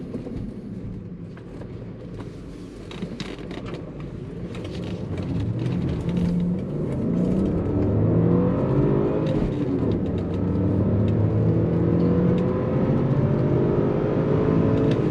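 A 2005 BMW 545i with a six-speed manual accelerates on the road up to highway speed, its engine note rising in pitch and swelling louder from inside the cabin, then holding a steady cruising hum.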